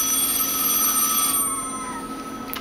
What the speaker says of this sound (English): It's the phone.